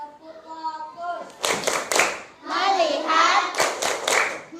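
Children in a primary school classroom perform a rhythmic group clapping routine, sharp bursts of hand claps mixed with chanted voices, led by a student.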